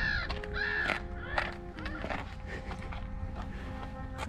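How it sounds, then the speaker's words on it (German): Seagulls calling near a bench on a gravel-bike day tour between Munich and Lake Tegernsee, several harsh laughing cries in the first seconds over steady outdoor background noise, then fading into ambient sound. "Was gibt's denn da zu lachen, ihr Möwen?"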